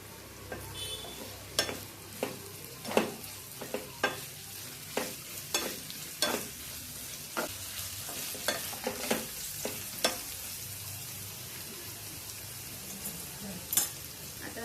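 Garlic-ginger paste sizzles gently in a pan for a ridge gourd bhaji while a spoon stirs and scrapes it, a dozen or so distinct scrapes and clinks over the soft, steady frying.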